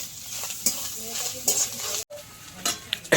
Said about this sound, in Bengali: নারকেলটা হালকা করে ভাজা হয়ে গেছে